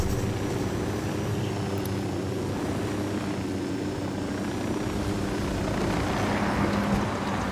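An aircraft flies in the video game Ghost Recon: Wildlands, set in Bolivia, with a loud, steady rotor and engine drone that holds unbroken from start to finish, with no talk.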